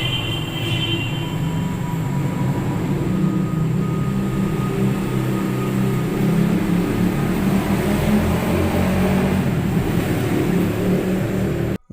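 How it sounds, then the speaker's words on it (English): Traffic roars steadily outside a window, a loud continuous low rumble with a brief higher tone near the start and no voices. "traffic is heard roaring out the window"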